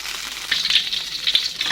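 Oil heating in a wok for seblak gives a steady, moderate sizzle with light crackles throughout, with no talking over it.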